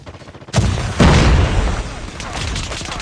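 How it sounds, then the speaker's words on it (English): A grenade blast in Call of Duty Mobile, a sudden loud boom that rolls into a dense rumble with shots crackling around it, and game voice callouts laid over the top. "Watch out, grenade!"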